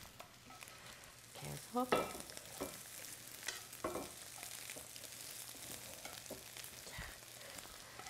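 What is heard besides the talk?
stir-frying scrambled eggs in a pan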